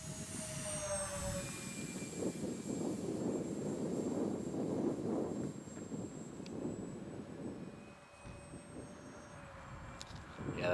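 An E-flite Twin Otter RC plane flies past with its flaps up, its twin motors giving a smooth, continuous drone on a windy day. The sound is fairly steady, with a light dip near the end.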